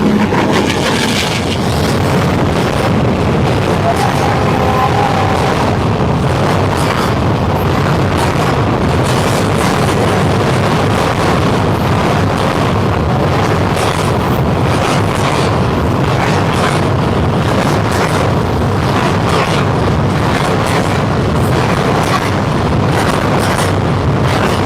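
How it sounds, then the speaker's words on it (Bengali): A freight train loaded with stones rolling past close by, a loud continuous rumble and roar that stays steady throughout. "পুরোটাই পাথরের ট্রেন দাদা"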